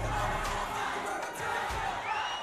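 Crowd cheering at an amateur boxing-style fight night, a steady loud roar of many voices with shouts rising and falling, close and continuous.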